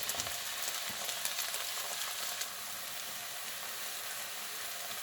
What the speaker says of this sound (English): starting to hear the sizzle there